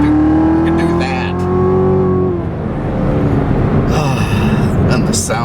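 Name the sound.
Chevrolet Corvette C7 Z06 engine roaring while driving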